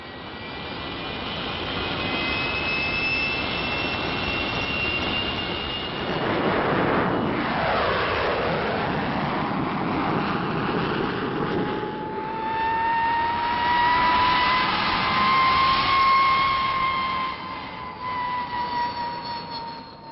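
A Gloster Meteor jet fighter roars loudly overhead, its engine whine sweeping down in pitch as it passes, then a steady jet drone and high whistling tones as it flies on, with no voices.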